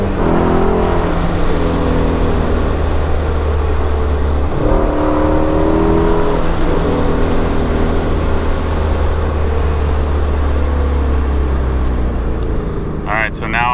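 Ford Shelby GT350 on its stock OEM exhaust, the engine droning loud and close as the revs swell and ease back in steady waves, with a brief high chirping near the end.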